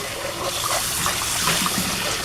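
Water from a tap runs and trickles over a Pyrex glass baking dish as it is rinsed, a close, steady splashing flow.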